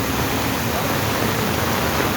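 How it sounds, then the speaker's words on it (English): Heavy rain falls across a flooded street in Monrovia city, a steady, dense hiss that stays even and unbroken throughout. "So everywhere just raining throughout."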